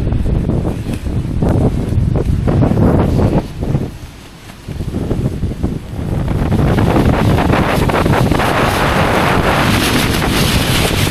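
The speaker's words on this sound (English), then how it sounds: "now our walk back is in against the wind." Strong wind buffeting the microphone on a marsh walk near Skegness, loud roaring gusts that ease briefly in the middle before surging back hard and steady.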